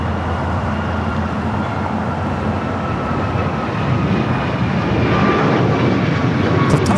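A Lufthansa airliner in special livery landing on the south side at LAX, a steady loud roar of jet engines rumbling close and constant for several seconds, swelling slightly toward the end.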